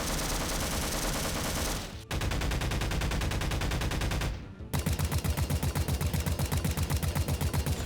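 Automatic rifle fire in Half-Life, three sustained bursts separated by brief gaps, the last one a crisp rapid rhythm of distinct loud shots, close and without talk.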